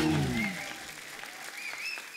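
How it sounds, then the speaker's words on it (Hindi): Studio audience applause on a Hindi TV talk show set, welcoming a couple, loud at the start and thinning into lighter scattered clapping with faint tonal music over it. "जोरदार तालियां इस ब्यूटीफुल कपल के लिए।"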